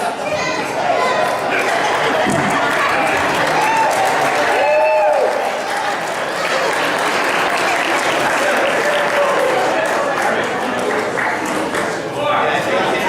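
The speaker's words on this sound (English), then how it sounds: "Is everybody cheering because I'm finished, or are they cheering for you guys?" Wedding guests cheer and applaud in a lively room, steady loud clapping and whoops filling the whole stretch, with scattered voices and chatter mixed in.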